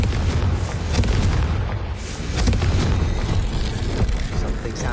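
A Confringo spell explosion in Hogwarts Legacy, a loud, dense rumbling blast with surging waves of noise and crackle that fills the whole stretch without a break.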